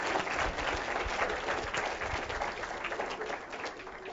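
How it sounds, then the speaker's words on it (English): An audience claps steadily throughout, a dense, even round of applause heard from a moderate distance. "If we could kindly give him a quick round of applause again."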